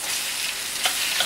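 Shrimp and onion sizzle in a hot pan while stir-frying for pancit canton, a brief steady hiss with a couple of faint spatters, close and alone without voices.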